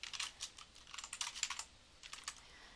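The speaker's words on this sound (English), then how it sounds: "We're going to type in the current date." Quiet keystrokes on a computer keyboard as a date is typed, a quick irregular patter of soft clicks, close and faint, with no voices.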